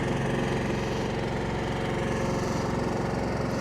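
Harbor Freight Predator generator, the brand's largest model, running at a steady close pulsing engine drone with even throbbing and no talking.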